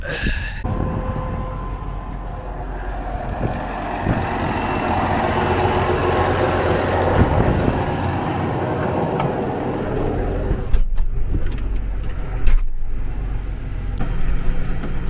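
A tractor engine runs steadily on a farm while hitched to pull out another tractor stuck in water, a loud, low continuous drone with slight rises in load and occasional knocks, no voices heard.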